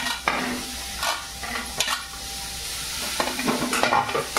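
Stirring a pan of peruchi bhaji, guava vegetable cooking with turmeric and masala, with intermittent scraping strokes of a spoon over a soft sizzle, close and fairly quiet.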